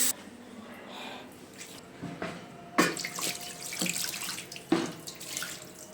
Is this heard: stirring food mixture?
no